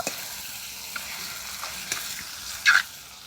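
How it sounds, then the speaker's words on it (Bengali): Sundarban crab masala cooks in ghee, giving off a quiet, steady sizzle while a spoon stirs it with a few soft scrapes and one sharper clink near the end. "ওই যে ঘিটা বের করে রেখেছি সেটা দিয়ে দেব একটু কষিয়ে নেব"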